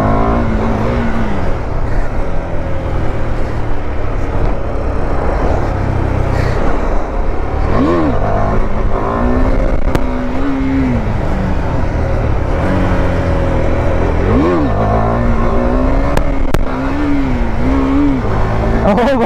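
KTM RC 390 motorcycle fitted with a Powertronic ECU, revved hard for a wheelie attempt at night: a steady loud engine drone with two rising rev swells, under continuous wind roar.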